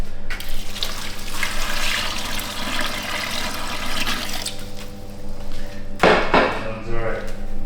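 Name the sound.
plain water being poured for a burger mixture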